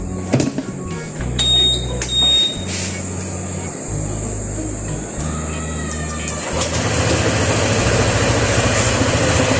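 A Honda ADV scooter engine cranks with a few short starter bursts, then catches and settles into a steady low idle, with a beeping electronic tone from a GPS tracker device cutting in near the start.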